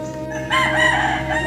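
A rooster crows once loudly and close by, the call rising after a quieter opening and holding over steady background noise.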